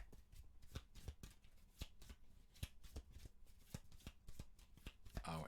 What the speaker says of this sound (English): we're going to go ahead and deal out some cards